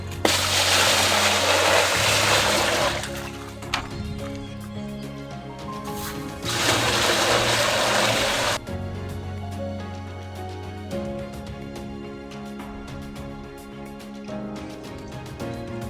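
Water gushes loudly into a 100-litre barrel in two separate pours, with a low steady hum running underneath.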